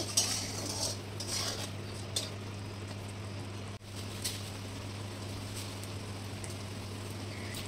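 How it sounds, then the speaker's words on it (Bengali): Masala for aloo chana is stirred and fried in a pan, soft scraping and faint sizzling over a steady low hum, quiet and continuous with a brief dip midway. "এবার ভালো করে আরেকটু কষিয়ে নেব।"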